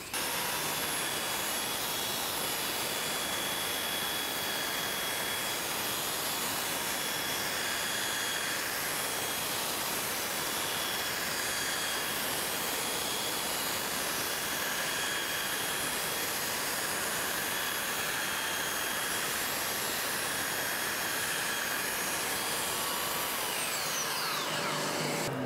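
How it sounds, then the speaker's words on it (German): A belt sander runs continuously on a sanding frame, guided lightly by hand, a loud steady whirring roar with a constant high whine that holds unbroken throughout before stopping at the end. "Ihr könnt diesen Schleifer mit ganz wenig Kraft führen."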